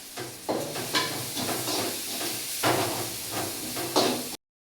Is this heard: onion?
yes